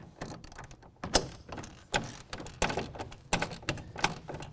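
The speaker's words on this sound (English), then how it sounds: "We'll go ahead and tighten that down with a 14mm socket" A ratchet fitted with a 14mm socket tightens a locking nut over a plastic washer while a tonneau cover is fitted to a 2017 Chevy Silverado 2500 HD, producing close, uneven bursts of metallic clicking and clanks with short pauses.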